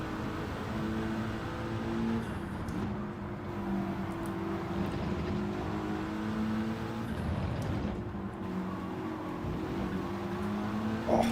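Race car engine in Gran Turismo 7 revving through its gears, a steady loud drone that rises and falls with shifts, with no voices over it.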